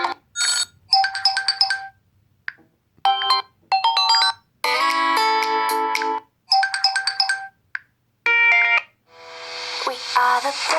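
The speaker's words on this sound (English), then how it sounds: "you can just select any one of these as your ringtone" Ringtones on a Honor 8S smartphone play one after another as short melodic snippets of chimes and tones, each separated by brief silences, clear and close.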